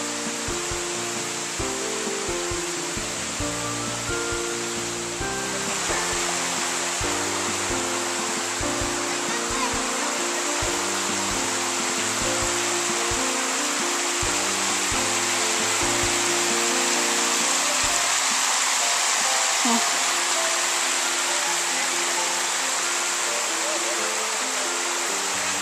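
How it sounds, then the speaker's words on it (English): The waterfall at Pacifico pours in a steady broadband rush that holds throughout at a moderate level, with low rumbling and faint shifting tones beneath the constant spray. "Here's the waterfall at Pacifico."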